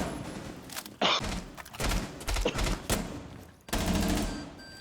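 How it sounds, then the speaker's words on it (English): Rapid automatic gunfire from a Rainbow Six Siege esports match rattles in several bursts and single shots with thuds between, fairly quiet throughout. "Getting gunned down, punished."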